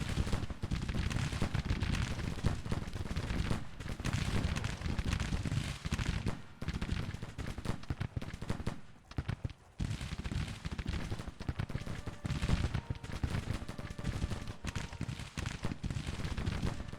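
Rifle volleys crack repeatedly in a Civil War strategy video game battle, dense overlapping gunfire bursts rolling continuously, loud and close, with a brief lull in the middle and no talking.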